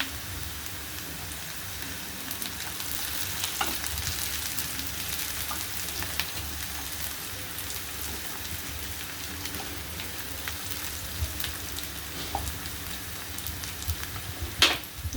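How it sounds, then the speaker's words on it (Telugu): Onions with green chillies fry in a pan for a brain fry dish, a moderate, crackling sizzle that runs continuously, with a few sharper pops and stirring clicks near the end. "ఉల్లిపాయలు వేగిపోయినాయండి. మనకి పచ్చిమిరపకాయలు వేసుకుందాం."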